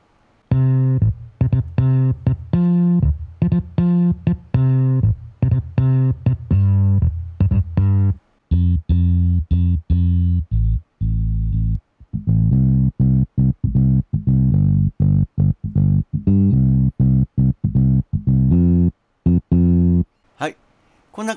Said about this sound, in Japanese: これでもう ベースのフレーズができます。